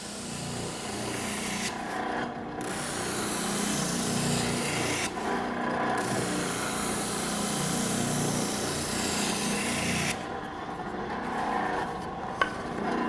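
A benchtop spindle sander smooths saw marks from a wooden workpiece, a steady close motor whir with continuous rasping friction as the board is pushed across the sleeve, the grinding briefly lightening a few times as contact eases.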